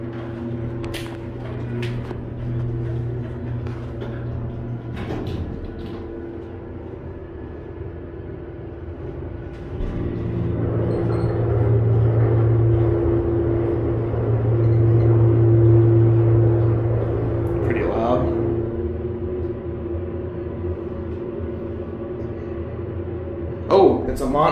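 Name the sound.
Montgomery elevator motor running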